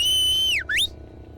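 A single clear whistle from a person, a long steady high note that dips sharply downward then sweeps quickly back up before stopping, close and loud with no talking.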